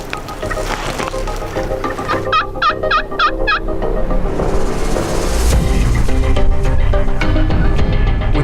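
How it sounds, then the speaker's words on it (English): Several wild turkey gobblers gobble in a rapid burst of rattling calls about 80 yards off in the woods, loud and clear against a steady outdoor background. "Gobblers are hammering about 80 yards to our left."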